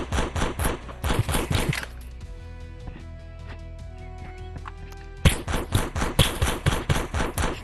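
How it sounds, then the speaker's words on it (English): Automatic shotgun fire in the VR game Animal Rivals: rapid repeated blasts, stopping for a few seconds of quieter game sound, then a fresh run of loud shots. "auto shotgun barely does any damage, bro"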